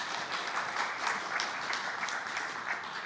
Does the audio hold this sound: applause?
yes